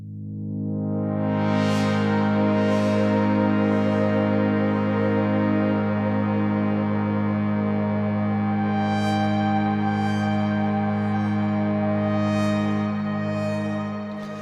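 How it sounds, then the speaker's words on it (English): Synthesized sci-fi tone with reverb, a steady layered drone with a strong low body and bright shimmering upper harmonics, swelling in repeated sweeping pulses that ring out with a long reverberant tail. "Let's add some reverb to this"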